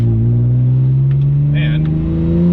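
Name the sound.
BMW E46 M3 engine revving with Valvetronic muffler, valves closed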